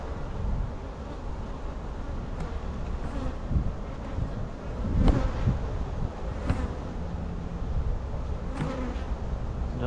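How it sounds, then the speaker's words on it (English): Honey bees buzzing around the outside of a hive in a nuc yard, a continuous close drone of many insects with individual bees swelling louder as they pass near. "It's always good when you got bees on the outside right here."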